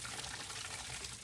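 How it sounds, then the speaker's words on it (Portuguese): Water running steadily from a bamboo spout, fed from deep underground, a soft continuous splashing and trickling with no pauses or voices. "bica d'água, o tamanho do bambu aí, ó. Tá vindo lá das profundezas da terra."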